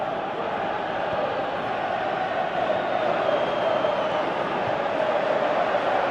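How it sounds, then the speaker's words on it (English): Stadium crowd noise from the football game Pro Evolution Soccer 2018, a steady loud roar of a large crowd calling and chanting, continuous throughout with no break. "Crowd calling for him to shoot"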